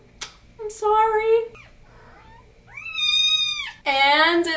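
A kitten, a black or tuxedo cat, meows repeatedly and loudly up close in high, drawn-out cries, with brief quiet gaps between calls.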